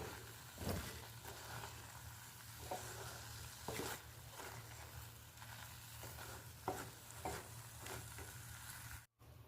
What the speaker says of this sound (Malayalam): മീഡിയം ഫ്ലെയിമിൽ വെച്ച് ഒരു അഞ്ച് മിനിറ്റ് നന്നായി ഇളക്കുക